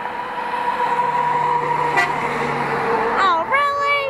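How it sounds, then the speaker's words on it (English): A car horn fitted to a match truck honks near the end, a short blaring tone with a wobble over steady vehicle rumble, with people talking nearby. "He has a car horn on that thing."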